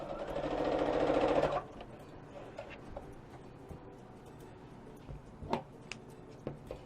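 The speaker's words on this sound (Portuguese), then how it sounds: "Vou costurar." A sewing machine stitching quilt fabric runs in one fast, steady burst for about a second and a half, then stops, leaving faint handling clicks and taps in a quiet room.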